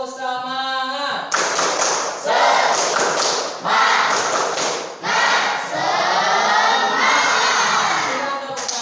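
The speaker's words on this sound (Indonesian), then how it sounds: "Tepuk semangat." Another round of patterned spirit clapping from a standing group in a training classroom, loud synchronized claps in rhythmic bursts with crowd voices and shouts mixed in.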